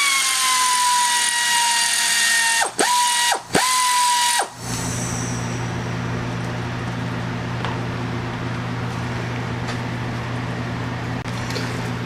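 A power tool spins out the last bottom bolt on a Jeep CJ Dana 30 axle, a loud steady whine broken by two brief dips and a stop, followed by a lower sustained hum and faint clicks.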